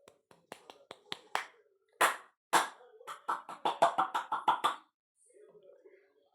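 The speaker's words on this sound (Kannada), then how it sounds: "ಚಪ್ಪಾಳೆ." A run of sharp hand claps, a few scattered slaps at first, then a faster rhythmic burst of about a dozen close claps before fading to a quiet murmur.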